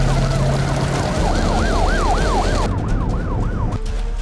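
A loud ambulance siren wails in a rapid, repeating up-and-down sweep, close by, over a heavy roar of traffic, ending as the ambulance crashes into a wall in a dead-end street.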